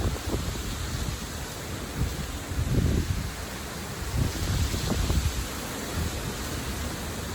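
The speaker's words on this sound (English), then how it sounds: "It's like a hurricane wind." Strong gusting wind roars steadily against the microphone on a South Florida farm, with low buffeting surges rising and falling throughout and no voices.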